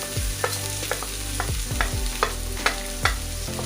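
Ginger garlic paste with turmeric fries in a pan under a sizzling hiss, punctuated by a steady series of sharp utensil scrapes and taps against the pan, roughly two per second, with no talking.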